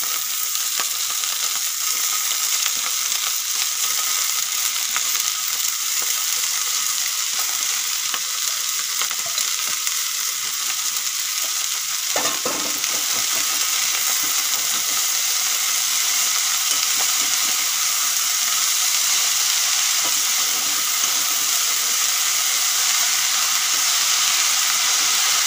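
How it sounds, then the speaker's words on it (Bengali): Dried shrimp and radish greens fry in a pan, making a steady, hissing sizzle that holds at an even level throughout, with one brief stirring clatter midway. "শুকনো চিংড়িগুলো আমি ভালো করে ভেজে নিয়েছি। এখন মূলো শাক দিয়ে দেব।"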